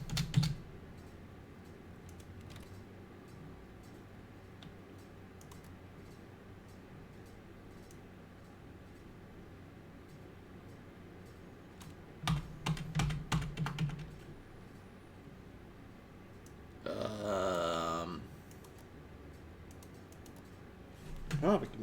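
Quiet computer keyboard typing clicks along at a soft, steady pace, with a faint hiss underneath and a brief burst of denser activity midway.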